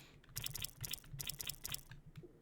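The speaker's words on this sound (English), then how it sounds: "Love listening to my kind of mechanical keyboard." Fingers typing on a mechanical computer keyboard in quick bursts of crisp, clicky keystrokes separated by short pauses, close and fairly quiet, with no speech.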